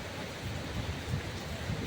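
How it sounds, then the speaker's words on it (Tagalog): Steady rain from a typhoon with a low rumbling wash of wind gusting underneath, a continuous outdoor roar with no voices. "may kasamang ulan at hangin yung paglakas nila"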